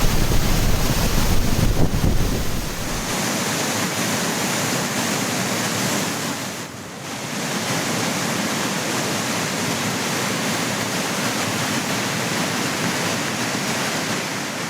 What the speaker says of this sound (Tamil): குற்றாலம் மெயின் அருவியில் கடும் வெள்ளப்பெருக்கு ஏற்பட்டது